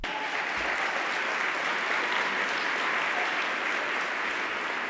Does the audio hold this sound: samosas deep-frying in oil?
no